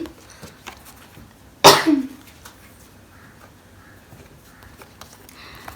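A woman gives a single sharp, loud cough followed by a short rasp, then a quiet room with faint small noises.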